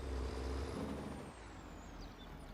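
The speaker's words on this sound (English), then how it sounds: "get the truck backed in" Air brake hiss and low diesel rumble from a truck backing in on a farm in Farming Simulator 22, a steady loud engine drone with a release of air near the start and a faint high whine above.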